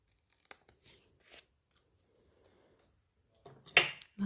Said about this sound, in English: trimming off this little tiny bit here